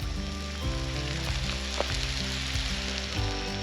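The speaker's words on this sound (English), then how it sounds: "We've got our steaks on the fire." Steaks sizzle and fry over an open campfire on the road, a continuous close crackling hiss with small pops, steady and alone without any voices.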